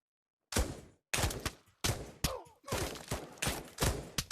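Bursts of gunfire in a VR shooter game on a Meta Quest 2, loud close rapid volleys in repeated clusters separated by brief pauses.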